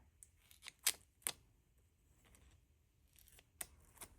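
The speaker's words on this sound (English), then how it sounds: "I'm going to cut a straight edge." Scissors snip a straight edge along a planner sticker piece, a few crisp close cuts spaced out over a quiet background.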